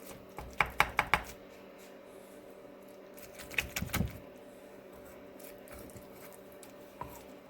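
A knife cuts into a baked spaghetti casserole, a few quick close chopping taps near the start and a cluster of scraping cuts around the middle, with one last soft tap near the end, all against a quiet background.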